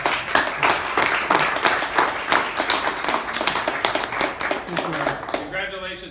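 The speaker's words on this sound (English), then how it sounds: "give another round of applause to the whole team" A group claps for the whole team at a trophy presentation in a store, brisk and fairly close hand claps in a steady burst, with voices talking over it and a speaker's voice taking over near the end.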